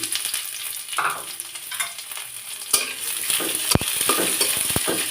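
Chopped onions stirred through hot oil with garlic and cumin for a fish-tail mash, a steady broadband sizzle with scraping spatula strokes and a few sharp clatters of utensil against pan, close and without talk.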